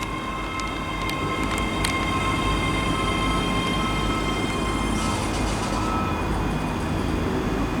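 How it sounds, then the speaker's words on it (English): A ScotRail class 385 electric train pulls into Stirling station with a continuous loud rumble and rolling wheel noise, faint high squeals of wheels and brakes threaded through it. "Here arriving in now is going to be the 1142 ScotRail service to Edinburgh Waverley from Dunblane, which is 385114"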